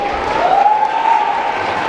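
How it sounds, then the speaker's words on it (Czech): Big round of applause from a talent-show audience for a returning champion act, steady dense clapping throughout, with a sustained tonal hum running under it. "Velký potlesk."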